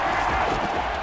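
In the Madden NFL 21 football video game, a stadium crowd roars in a dense, loud, continuous wash of cheering ahead of a big third-down play.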